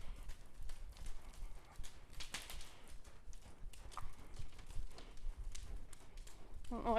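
A horse walks in an even, rhythmic clip-clop of hooves during trail-riding training, fairly faint with soft background noise.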